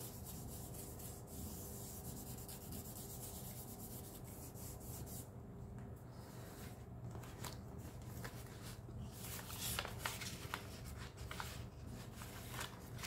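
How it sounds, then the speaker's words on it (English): Paper edges being distressed by hand for a Valentine notebook, a steady, soft, close scratchy rubbing that continues with little change throughout, fairly quiet and with no talking. "distress around the edges of the paper a little."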